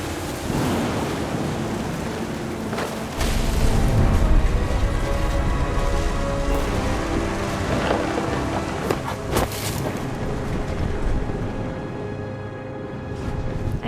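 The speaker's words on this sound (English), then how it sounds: "The thunder sounded much too close and full of angry power" Wind, rain and rumbling thunder in the video game What Remains of Edith Finch, a dense continuous roar with low surging swells and scattered sharper cracks, loud and unbroken throughout.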